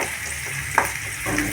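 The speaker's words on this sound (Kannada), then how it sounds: "ಇದು ಶೇಂಗಾ ಕಡೆ ಎಷ್ಟು ಚಂದ ಫ್ರೈ ಆಗ್ಯಾವ" Peanuts frying in a pan, a continuous close hiss and sizzle with a faint stirring clink partway through, no voices.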